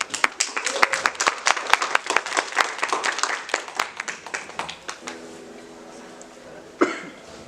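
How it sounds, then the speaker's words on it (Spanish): Audience applause at an acoustics expo talk on lutherie, a crowd of distinct, fairly sparse claps that thin out and fade over several seconds, followed by a brief murmur and a cough near the end. "Un fuerte aplauso para él."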